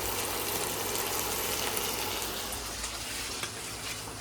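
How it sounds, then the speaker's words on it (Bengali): Dhenki shak (fiddlehead fern greens) frying in a pan at home, giving a steady close sizzle and crackle that runs unbroken throughout with no voices. "ওইদিকে ঢেঁকি শাক ভাজা করছে"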